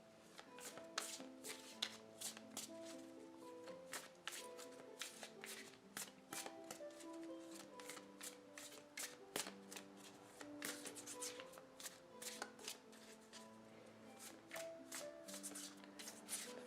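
A deck of tarot cards is shuffled over and over, making quick, close, soft riffling and slapping bursts in a steady rhythm, with faint tonal music underneath.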